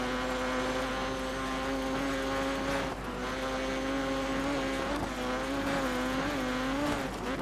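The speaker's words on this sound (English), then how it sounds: "squeezing past the Camaro there" Race cars squeezing past a Camaro in the Dirt 3 racing game, with steady loud engine drone and shifting revs throughout, close and continuous with no talking.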